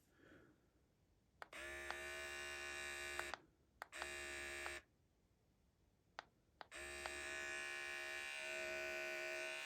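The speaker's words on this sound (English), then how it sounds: "to hear how loud or quiet the motor is" A Meridian body trimmer motor switches on and off three times, giving a steady, close electric buzz with brief clicks between the runs and quiet pauses, with no talk.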